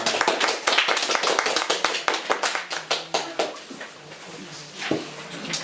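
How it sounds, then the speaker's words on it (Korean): A church congregation applauds at a Sunday worship service. The clapping is lively and sharp at first, then thins out and fades to a few scattered claps, with faint voices underneath. "박수로 하나님께 영광을 돌립니다."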